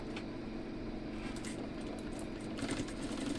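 A sewing machine stitches a six-panel petticoat, giving a steady, close mechanical whir with a fast, even stitching rhythm that continues without pause.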